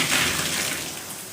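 Water streams steadily while rinsing off a body, a loud, even rush of shower-like flow running continuously for a brief moment with no talking.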